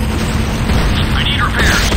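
Dense crackling and booming explosions from an attack on a harvester in the video game C&C Renegade, loud and continuous, with bursts layered over a heavy low rumble and a voice speaking underneath.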